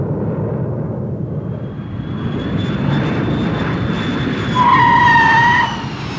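A fixed-wing airplane roars steadily nearby, its engine tone rising into a loud whine before easing off near the end, with no voices.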